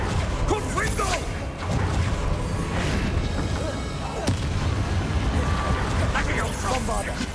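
Confringo spell explosions in the video game Hogwarts Legacy make repeated crashing blasts and rumbling impacts throughout, mixed with voices talking over the action.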